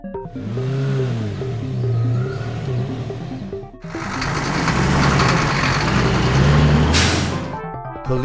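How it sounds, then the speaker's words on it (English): A police tow truck's big engine whines and rumbles at close range, then a sharp burst of air-brake hiss sounds near the end. "Police tow truck."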